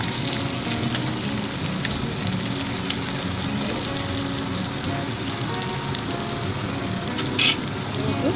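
Onion and garlic frying in a pan, a steady crackling sizzle with occasional sharper pops and clinks, close and continuous without talk.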